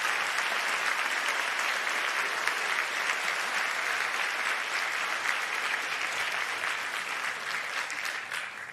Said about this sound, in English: would you please give a round of applause, please, for the board and staff of EIT